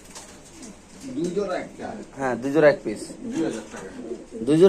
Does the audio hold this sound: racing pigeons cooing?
yes